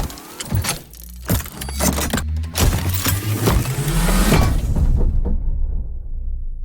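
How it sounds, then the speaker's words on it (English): Mech suit build-up effect from a cinematic sound library: a series of sharp metallic clanks and mechanical hits over a rising, whirring motor tone that climbs steadily before ending in a final heavy impact and ringing fade. "And mech suit build-up."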